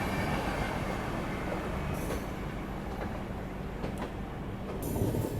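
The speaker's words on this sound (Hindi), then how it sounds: "मेरे ख्याल से ये बिहार संपर्क क्रांति एक्सप्रेस है।" The Bihar Sampark Kranti Express rumbles along the rails in a steady, continuous clatter of wheels and carriages, with faint squeals and knocks rising now and then, heard close from aboard a moving train.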